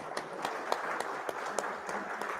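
Clapping from a conference audience in a hall, a fairly faint, even patter of many hands with small individual claps standing out, carrying on steadily without talk.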